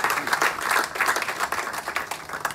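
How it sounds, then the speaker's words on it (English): An audience claps during a politician's visit to a TV station, a fairly close, loud burst of many hands with uneven pulsing swells, the clapping continuing unbroken throughout. "Let's give him a clap."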